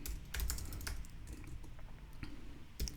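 Someone types a message on a computer keyboard in quick, irregular bursts of close, clicky keystrokes, with short pauses between the runs and a louder clack near the end.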